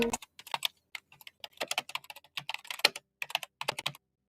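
Rapid clicking of keys on a computer keyboard, a quick irregular run of light taps, close and fairly quiet.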